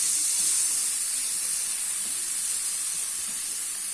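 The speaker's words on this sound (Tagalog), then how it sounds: "So, itiprito muna natin yung ating ham." Ham frying in a pan gives off a steady, bright sizzle and hiss that holds evenly for a few seconds, close up, with no talking.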